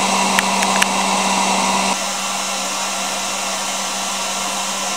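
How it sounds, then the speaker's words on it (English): A hair dryer blows steadily to heat a bowling ball, a loud continuous whooshing drone that drops to a slightly lower setting partway through, with a few light clicks near the start. "Pick off our hair dryer."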